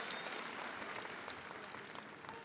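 Stadium audience at a political convention clapping for Vajpayee, a dense, sustained wash of applause from many hands, fairly distant and steady, with no talking.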